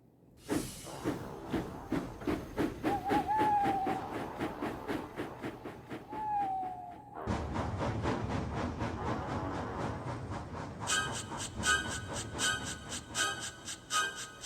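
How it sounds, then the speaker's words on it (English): A steam engine puffs steadily away pulling mail vans, its rhythmic chuffs close and continuous under hissing steam, with a brief whistle-like tone partway through and a denser, louder rush of steam toward the end. "Percy was coupled to his mail vans and he puffed away."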